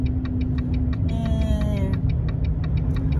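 A truck engine drones steadily from inside the cab while driving after unloading, under a regular rhythm of light ticking clicks, with a short tonal whine rising briefly in the middle.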